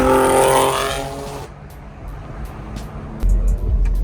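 BMW M2 engine at a car meet, loud revving that rises then drops into a rough, throaty idle before surging again, close and dominant with crowd noise beneath.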